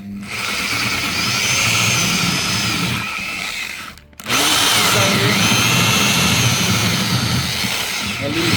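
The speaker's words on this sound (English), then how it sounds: "what you can do now is drill a little bit inside" A power drill fitted with a hole saw bores into material with a loud, steady whine. It stops briefly about halfway, then resumes at full speed, close up.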